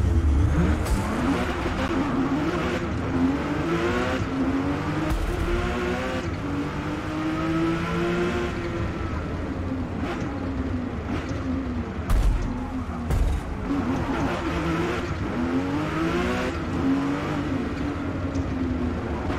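A 2018 Porsche 911 GT2 RS racing in Forza Motorsport, its engine droning steadily and loudly with pitch rising and falling through gear changes and throttle shifts.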